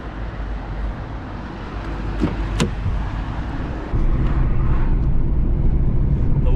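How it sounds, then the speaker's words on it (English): A car driving on a road through rolling hills in Anatolia, Turkey on an afternoon, heard from inside as a steady, loud engine and road rumble that rises slightly partway through, with no talking. "Let's go for a drive."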